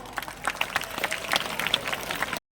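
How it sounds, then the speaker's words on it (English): An audience claps for school dancers at a celebration of a priest's 25th ordination anniversary. A brief, close burst of many hands clapping cuts off abruptly. "Let's give them a huge round of applause."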